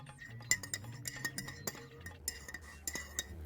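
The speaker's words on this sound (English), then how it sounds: "Gotta stir the sugar in there" A spoon clinks repeatedly against the inside of a cup or glass while stirring sugar into a drink, a quick irregular run of close, bright taps over a low background hum.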